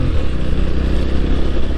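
The air-cooled 350cc single-cylinder engine of a 2021 Honda GB350S runs loud and close, a steady thumping rumble that builds only slowly in revs.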